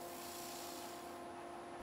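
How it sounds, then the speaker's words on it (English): Sandpaper rubs steadily across a turned laminated wood platter, a continuous soft rasping with a faint hum beneath, quiet and unbroken throughout. "There's a couple of slight imperfections in the surface, but I'll get those out with sandpaper"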